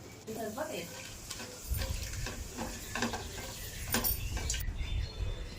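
Whole biryani spices (cinnamon, star anise, black cardamom, cloves, cardamom, bay leaf) fry in oil for fry piece biryani, a steady close sizzle with occasional stirring scrapes and faint clinks, no talk over it.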